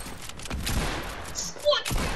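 Rapid bursts of gunfire in the video game Fortnite, a dense crackling volley running steadily through the moment over a loud game soundscape.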